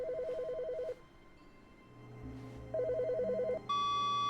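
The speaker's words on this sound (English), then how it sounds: "one of the phones is ringing." A telephone rings in the video game The Stanley Parable, two trilling electronic ring bursts about a second long separated by a pause, over a low ambient game hum, followed by a steady tone.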